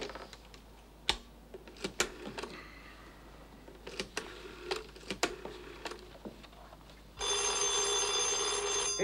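A telephone rings with a steady, loud, continuous electric bell tone starting partway through, after a stretch of quiet clicks and handling sounds indoors.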